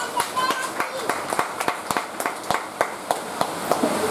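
A church congregation clapping and acclaiming the Lord, with rapid, uneven hand claps from a group continuing steadily under voices talking and calling out.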